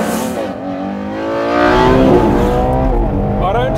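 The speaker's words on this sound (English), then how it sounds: "I don't think there will ever be a day when I tire of the sound of a V12 Ferrari engine." A Ferrari Purosangue SUV's V12 engine revs hard, the pitch rising and swelling to a loud, close, sustained howl before easing slightly and climbing again, with a brief tire-like squeal near the end.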